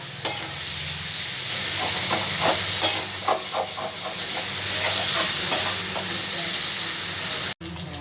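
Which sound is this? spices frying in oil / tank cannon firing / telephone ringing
spices frying in oil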